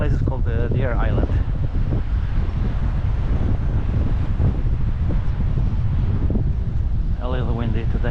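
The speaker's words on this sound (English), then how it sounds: "A little windy today." Strong wind on Deer Island, near an airport, buffets the microphone in a constant roar, with faint voices talking underneath.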